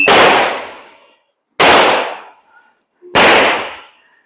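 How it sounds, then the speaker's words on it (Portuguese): Three loud, sharp gunshots during target shooting, evenly spaced about a second and a half apart, each ringing out with a decaying tail and no talk between them. "Essa vai para o making-off do tiro."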